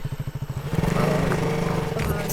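A motorcycle engine sputters with a quick rhythmic putter, then revs up and pulls away, nearby and fairly quiet.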